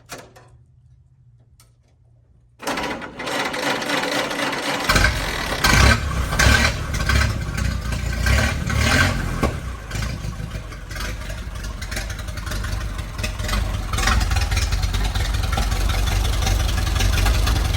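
A 1929 Ford Model A engine with a downpipe but no muffler starts after a couple of seconds of quiet and then runs loud and steady close by, an open, raw exhaust note for the rest of the clip, after decades of sitting.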